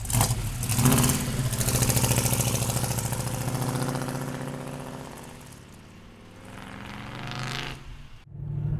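A 1966 Chevrolet Nova with a big-block engine and four-barrel carburetor, heard close up as a loud rumbling idle with swelling revs that fade down, then a brief sharp blip at the end.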